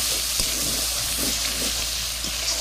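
Meat curry cooking over a wood-fired stove gives a loud, constant sizzle, with faint stirring clicks under the steady frying hiss throughout.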